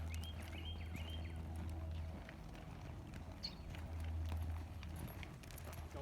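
Faint rhythmic hoof beats of a horse loping through a cloverleaf pattern in an arena, soft clip-clop under a low steady hum, no talking.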